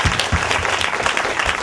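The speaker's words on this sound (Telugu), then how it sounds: "చప్పట్లు కొట్టాలి గట్టిగా." A church congregation claps loudly and together, giving brisk, close, rhythmic hand claps from a crowd without a pause.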